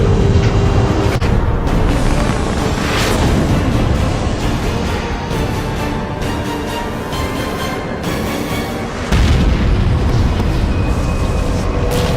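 Missile launch and explosion in the video game Halo 4, a loud, dense roar with rumbling low end that surges several times and swells again near the end, continuous and forceful throughout.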